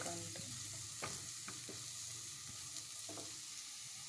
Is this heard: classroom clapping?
no